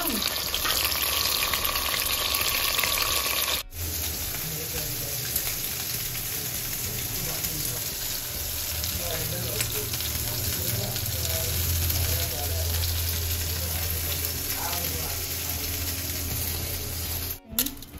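Minced keema fries in a pan with a loud, continuous sizzle and occasional stirring, while people chat over it at moments.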